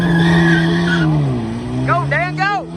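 A small Audi race car accelerates hard with a loud, steady engine drone that shifts pitch, followed by sharp, repeated tire squeals as onlookers shout over it.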